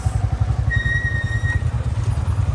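A motorcycle being ridden, with a close, steady low thumping engine pulse and light road rumble.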